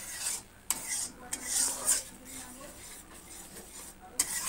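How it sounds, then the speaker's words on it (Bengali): Jackfruit curry being stirred and sautéed in a pan after water is added, with scraping utensil strokes and soft sizzling in irregular bursts, moderately quiet. "আমি জল দিয়ে আবারও ভালো করে কষিয়ে নেব"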